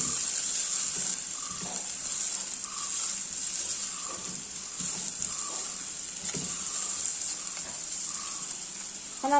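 Ginger, onion and green chillies sauté in a pan, giving a steady bright hiss with faint recurring stirring scrapes over about ten seconds.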